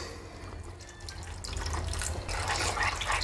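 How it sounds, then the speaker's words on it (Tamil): Water pours from a tap into a bowl of gram flour and chilli powder, a steady splashing stream that grows louder and fuller as it fills. "இது தண்ணி ஊற்றி கலந்துக்கலாம்"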